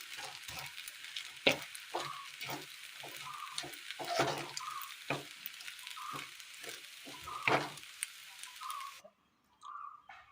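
A utensil scrapes and taps against a pan in repeated strokes over a soft sizzle while mixing banana and vermicelli, ending with a brief quiet pause and a few last scrapes.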